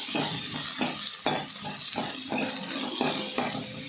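Onion sautéing with roasted coconut in a pan for chana masala, crackling sizzle broken by regular spatula scrapes about every half second, close and alone without talk.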